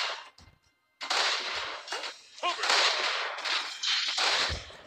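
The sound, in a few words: sniper gunfire in the video game War Heroes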